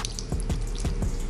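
Water splashes and patters in short, uneven drips close by, poured from a cup onto the lip of a ceramic-coated car wheel for a brief moment.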